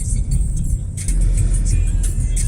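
A Perodua Ativa 1.0 Turbo drives along, its engine and road noise a loud, steady low drone heard from inside the cabin.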